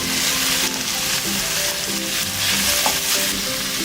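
Chicken pieces stir-fry in a pan for Chinese-style biryani, with a loud, continuous sizzle and occasional scrapes and clacks from stirring.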